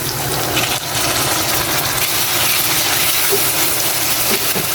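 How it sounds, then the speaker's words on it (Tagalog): Pork meat being sautéed in a pan for pork igado, a steady, close sizzling hiss that runs continuously with no talk over it. "Igisa na ako guys para dun sa laman."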